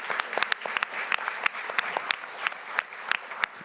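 Audience applauding event sponsors at a live business ideas program, a steady wash of many hands clapping with sharp individual claps standing out throughout.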